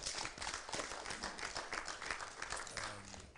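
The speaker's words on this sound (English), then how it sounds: "I want us to clap for him so much." A crowd claps steadily and continuously, a broad dense wash of applause with no talking over it.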